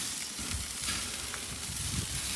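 Basted Cajun barbecue pork steaks sear on an Old Smokey grill, giving a steady, dense sizzle throughout with no talking.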